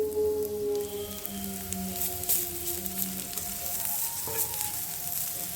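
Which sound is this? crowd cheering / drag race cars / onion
onion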